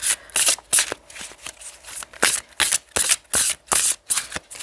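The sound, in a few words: tarot cards being shuffled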